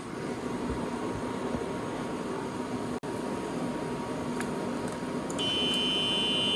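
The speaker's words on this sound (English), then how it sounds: "The buzzer works," Reverse buzzer on a Club Car DS golf cart, a steady high-pitched electronic tone starting near the end over a constant low motor hum, close and moderately loud.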